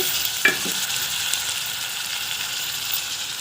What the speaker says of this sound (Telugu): ఆనియన్స్ బాగా మంచి కలర్ వచ్చే వరకు వేగనివ్వండి